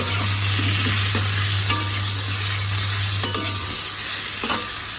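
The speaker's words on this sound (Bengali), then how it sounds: "এখানে আলু আর কুমড়ো ভাজি করছি, একটু কালো জিরে আর শুকনো লঙ্কা দিয়ে" Potatoes and pumpkin fry in oil with black cumin and dried chilli, a loud, even sizzle with a few faint utensil clinks and stirs over a low hum.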